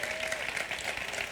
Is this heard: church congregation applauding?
yes